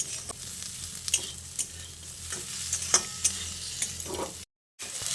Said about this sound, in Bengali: এবার আলু ও বেগুনটা দিয়ে আরও কিছুক্ষণ পেঁয়াজের সঙ্গে নেড়ে চেড়ে মিশিয়ে নিতে হবে।